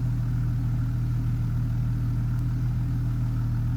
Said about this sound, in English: It's sort of like a modern sports car, so it sounds like a modern sports car too.